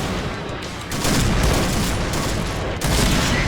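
Sniper rifle shots in the online shooter Point Blank, sounding as sharp, loud booming reports, one near the start and another heavy blast around the three-second mark, with lingering rumble between them and no talking.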